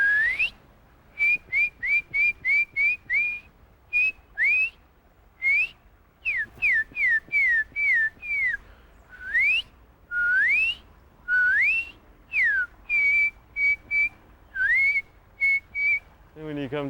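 A person whistles a melody while walking outdoors in Central Park, with short rising and falling notes in a loose, irregular rhythm and brief pauses between phrases, clear and close.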